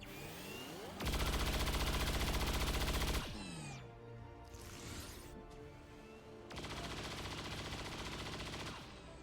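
Gunfire from the XCOM 2 Long War of the Chosen video game bursts out loudly in two long rapid volleys of cyclic fire, separated by quieter game sounds and a brief whoosh, with no talk.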